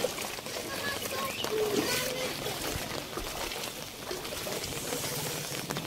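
Floodwater rushing past a house after very heavy rain, a steady broadband wash of flowing, splashing water that fills the whole stretch at moderate distance with no talk over it.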